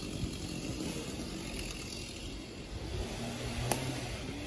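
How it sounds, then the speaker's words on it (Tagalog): A chainsaw cutting trees drones steadily in the distance, a continuous buzzing engine noise with slight swells, mixed with outdoor background hum. "Ayan, may mga chainsaw sila na ginagamit."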